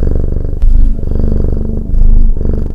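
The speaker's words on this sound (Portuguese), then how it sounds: "O ronronar de um gato é como uma trilha sonora de paz" A loud, close, rumbling purr from a cat, steady and rhythmic, with the low vibration swelling slightly at a couple of moments.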